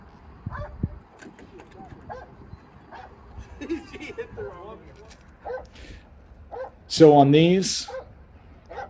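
A police dog on a patrol and SWAT operation gives one loud, close bark near the end after quiet yips and whimpers. Someone talks at moderate level before it.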